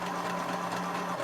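A sewing machine stitches a seam along the base of a handmade angel figure, a steady, continuous mechanical whirr with an even hum that runs nonstop at close range and cuts off near the end.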